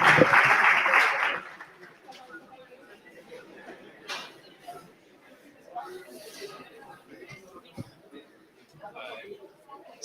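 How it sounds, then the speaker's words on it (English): A short burst of audience applause at a formal panel event in The Gambia fades within about a second and a half, then a single voice begins speaking in a quiet room. "Ladies and gentlemen, a round of applause."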